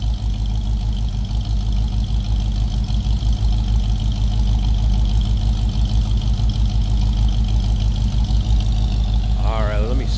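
A 1965 Ford Mustang convertible's 289 four-barrel V8 idles with a steady, close, low rumble throughout, unbroken, with a brief voice near the end.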